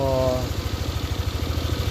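A hot Yamaha Aerox or Nmax V2 scooter engine idles with a steady, rapid mechanical ticking pulse close by. A brief voice is heard at the start.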